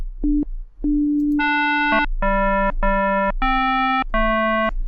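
FM synthesizer with its frequency ratio pushed to 4: a short series of bright, buzzy electronic tones, first two brief blips, then sustained notes stepping between pitches, each with strong metallic overtones, close and alone.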